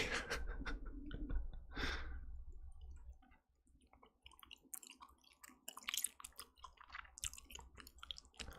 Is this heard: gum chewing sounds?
yes